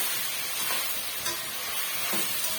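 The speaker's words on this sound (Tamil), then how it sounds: "இந்த தக்காளி பழம் ஓரளவுக்கு வதங்கி வரட்டும்" Tomatoes fry with salt in a pan, a loud, dense sizzle that runs continuously with a few brief stirring scrapes, close and with no voices.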